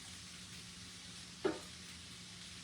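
Smoked sausage, cabbage and red onions frying in a pan, a quiet steady sizzle with one sharp clack of the stirring utensil partway through, no talking.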